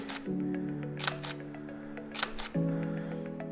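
Two sharp, clicky Nikon DSLR camera shutter snaps, about two seconds apart, each standing out over a steady low hum in the background.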